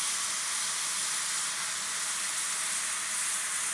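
Potatoes frying in a hot pan for breakfast burritos, a steady bright hiss and sizzle that stays even and close throughout, with no voices.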